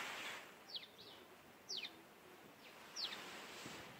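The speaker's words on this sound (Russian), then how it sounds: "Птички вот поют." Small birds chirp in a garden in three short, bright calls spaced about a second apart, faint over a quiet outdoor background.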